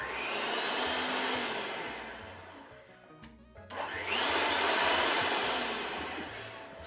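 An electric mixer creaming butter for shortbread whirs loudly and close, cutting out briefly midway before starting again and running on steadily with a rough, grinding texture; no one speaks.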